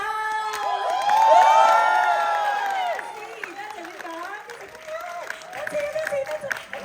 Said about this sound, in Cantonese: 再俾啲掌聲加加喎